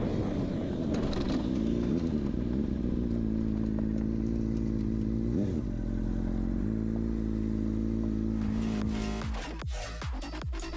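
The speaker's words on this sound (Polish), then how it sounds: "Motocyklista ze zbyt dużą prędkością wjeżdża w zakręt i z niego wypada." A motorcycle engine drones loudly at high speed as it enters a corner too fast, its pitch dipping and rising, then ends in a burst of scraping clatter as it crashes.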